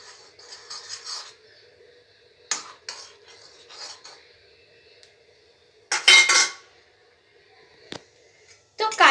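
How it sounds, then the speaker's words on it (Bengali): A spoon stirs food colouring into boiling milk in a pot, making scattered metallic clinks and scrapes against the pot's side, with louder bursts of clatter in between quieter stretches. "এটা একটু ভালো করে নাড়াচাড়া করব, আর পুরোটা যেন মিশে যায় দুধের মধ্যে"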